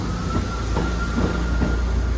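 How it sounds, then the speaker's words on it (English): A passenger train departs a station in Inverness, Scotland, rumbling steadily nearby with rhythmic clacks of wheels over rail joints and a faint high whine. "if you can hear that, that is a service departing out behind the Caledonian Sleep here."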